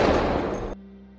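A gunshot rings out in a bank heist action scene, a loud sharp blast with a short rumbling tail that cuts off abruptly into near silence.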